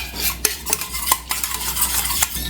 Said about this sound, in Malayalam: ഇനി നമുക്ക് നന്നായിട്ടൊന്ന് ഇതുപോലെ ഒന്ന് മിക്സ് ചെയ്ത് കൊടുക്കാം കട്ടകളൊന്നും ഇല്ലാതെ ഒന്ന് മിക്സ് ചെയ്ത് കൊടുക്കാം